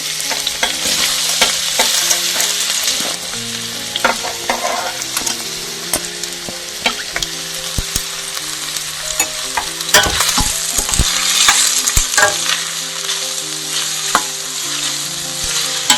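Onions frying in a few spoons of oil for a homemade sandwich filling, with a steady sizzle and frequent scraping stirs and clinks of a spoon against the pan, close and continuous throughout.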